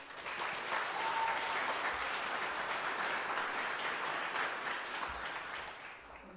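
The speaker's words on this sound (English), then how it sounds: "If you'll give them a round of applause, please." Audience applause for the coaches at a school sports awards ceremony, a steady, even round of clapping from a crowd in a hall, sustained for several seconds before tapering off.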